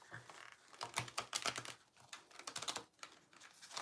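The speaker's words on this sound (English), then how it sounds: "I'm just going to shuffle again." Tarot cards being shuffled by hand during a card reading, a quick run of soft riffling and flicking taps, close and quiet, with no talking.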